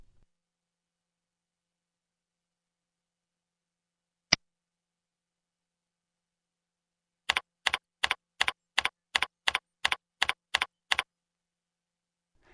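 Quiet, close keystrokes on a computer keyboard: one isolated tap, then a steady run of about a dozen evenly spaced key presses while a new password is entered, with no talking.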